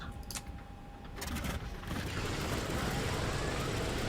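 Radial piston engine of a PMDG DC-6 airliner starting up in a flight simulator game: a few quiet mechanical clicks, then the starter and engine rumble swelling into a loud, continuous roar that fills the rest.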